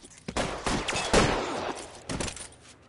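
Rapid bursts of gunfire in the L.A. Noire video game during a 1940s police shootout, several loud cracking shots in quick succession followed by a short pause and another volley.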